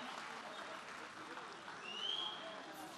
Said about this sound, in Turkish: O da kocaman bir alkış rica ediyorum.